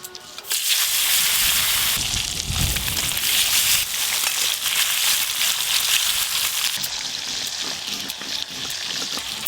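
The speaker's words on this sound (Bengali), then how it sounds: "রূপচাঁদ মাছগুলো লাল লাল করে ভাজা হয়ে গেল।" Pomfret fish frying in hot oil give a loud, continuous hissing sizzle with crackling pops that runs almost unbroken, close up.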